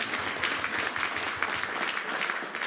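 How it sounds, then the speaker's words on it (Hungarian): Steady audience applause at a spring choir concert in Hungary, dense, even clapping from a crowd filling the hall without a break. "nagy tapsot kérek a technikai személyzetnek"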